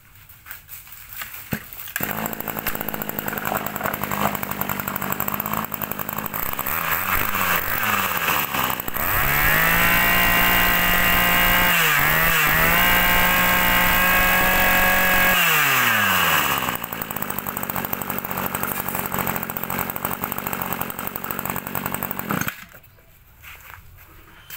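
Stihl 018 chainsaw engine running steadily close up, with a loud two-stroke drone that revs higher, then drops back to idle several times before it cuts off.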